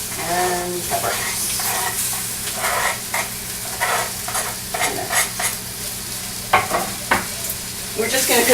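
Garlic and peppers crackle and sizzle with browned onions in a pan, while a utensil repeatedly scrapes and stirs in uneven strokes; the sizzle stays loud and close throughout.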